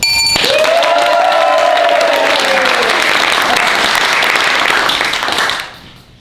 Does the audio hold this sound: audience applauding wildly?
yes